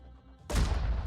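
Gunfire in the tactical video game Phoenix Point: after a brief quiet moment, a sudden loud, dense burst of shots bursts in and keeps roaring to the end.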